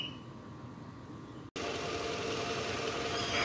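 A Toyota Harrier's 2AZ engine idles steadily with a low, even rumble after a repair that removed a rough noise, cutting out for a split second midway before resuming at the same level.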